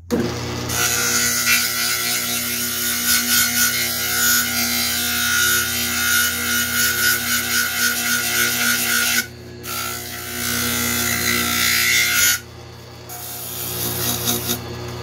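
Steady close rubbing and rasping as a painted wooden toy wheel is polished by hand without sandpaper, continuous for long stretches with a couple of brief pauses.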